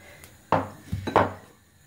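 A cooking utensil clanks against a frying pan as garlic goes into oil while making rad na with pork balls; two sharp metallic knocks and a few softer scrapes, close and alone.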